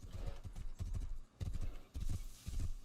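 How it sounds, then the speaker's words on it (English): Horse hooves clip-clop in a steady, fairly loud rhythm as a saddled horse is ridden in the survival game Rust, with short pauses between bursts of galloping steps and no talking. "off you ride into the sunset on your horse"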